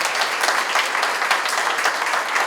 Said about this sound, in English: Another round of applause for Mercedes